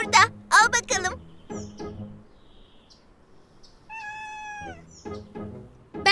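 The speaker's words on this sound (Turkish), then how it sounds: "Pamuk, seni tatlı pisi pisi." A cat gives a clear, drawn-out meow between bursts of a child's chatter, close and fairly loud.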